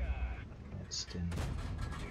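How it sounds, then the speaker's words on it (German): Tank cannon shots from the World of Tanks game, a sharp blast near one second and a louder boom with a long rumbling tail from about 1.3 seconds, over steady game noise. "Ja, das sind diese Schüsse, die nicht voll durchgezielt sind."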